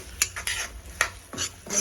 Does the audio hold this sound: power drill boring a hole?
no